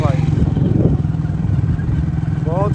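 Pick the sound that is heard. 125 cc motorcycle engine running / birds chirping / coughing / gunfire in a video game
125 cc motorcycle engine running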